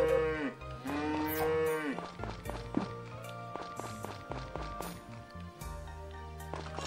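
Cow mooing in the farming game Story of Seasons: Friends of Mineral Town, several drawn-out bovine moos over cheerful game music with light footstep effects, fairly close and clear.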